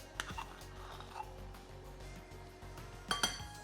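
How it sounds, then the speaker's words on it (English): A metal tablespoon measure clinks in a home kitchen, a few light, bright taps and rattles scattered through quiet room tone, with a sharper double clink near the end. "get my tablespoon measure out"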